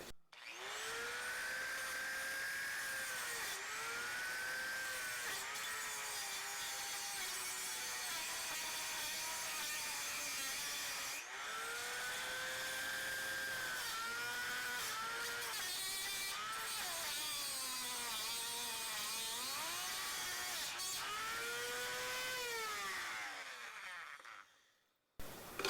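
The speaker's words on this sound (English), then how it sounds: "I'm going to come in here with a Dremel and cut that." A Dremel rotary tool whines as it cuts through the threaded nut of a vintage Eames lamp, a loud, steady high-pitched grind with rising and falling pitch as the blade bites, then stops abruptly.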